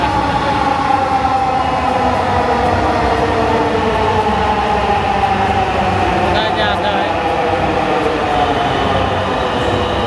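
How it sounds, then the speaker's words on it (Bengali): A train rumbles past close by, a loud continuous roar of wheels and carriages, with a brief high squeal partway and a voice speaking over it. "এখানে কিন্তু 5 মিনিট পর পর ট্রেন চলে আসে"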